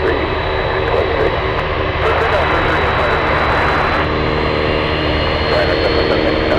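A Boeing 747 Dreamlifter cargo jet at Anchorage airport produces a loud, steady jet engine roar with a constant high whine, close and unbroken throughout.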